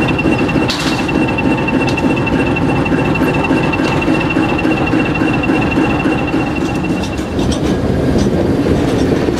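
A 1940s Alco DL109 diesel road locomotive with its 539T engine idling roughly, a steady loud rumble with a faint high whine running through most of it.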